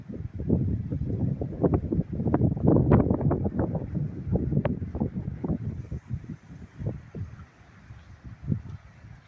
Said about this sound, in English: It's been like 20 plus mile per hour today. It's been nice and windy.